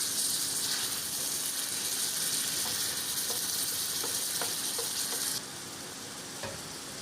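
Mutton liver fries on a tawa at a Karachi street food stall, giving a steady broadband sizzle with faint clicks and scrapes from stirring throughout, and no voices.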